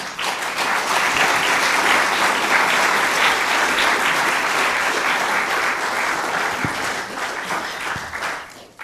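An audience breaks into sustained applause to welcome an artist and educator to the stage, dense clapping that holds steady for about eight seconds before thinning out at the end.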